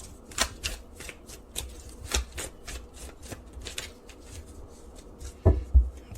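Tarot cards being shuffled and tapped, a series of crisp riffling snaps and flicks at an irregular rhythm, close and fairly quiet, with a couple of louder knocks near the end and no talking.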